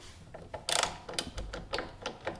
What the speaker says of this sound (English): let's remove these 2 bolts now